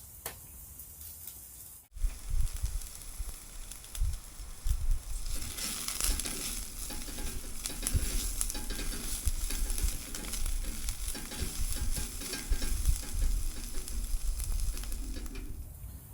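Finely chopped garlic and softened onions sizzle loudly in a hot pan, a burst of crackling frying that starts abruptly after a quiet moment and carries on with stirring scrapes, close and continuous.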